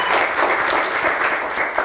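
Studio audience applause on a Turkish word quiz show, a dense, steady burst of clapping from a crowd, loud and close, lasting under two seconds with no voices.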